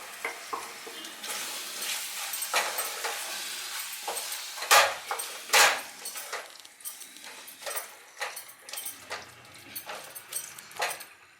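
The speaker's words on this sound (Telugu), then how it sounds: "నానబెట్టి ఉంచుకున్న చికెన్ను దీంట్లో వేసేయాలి" Marinated chicken paste dropped into a sizzling fry, with wet spattering bursts, stirring scrapes and light clinks of utensils, close and uneven in loudness.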